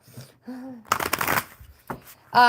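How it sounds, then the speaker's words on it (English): Playing cards shuffled by hand at a table during a relaxed coffee-and-cards session, giving one brief papery riffling burst framed by short stretches of nearby talk. "Suddenly forgot how to shuffle cards"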